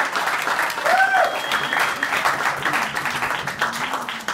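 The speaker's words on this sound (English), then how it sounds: "So round of applause for those guys." Guests at a wedding reception applauding, a sustained dense round of clapping from a crowd with a whoop and scattered voices mixed in, steady and fairly loud throughout.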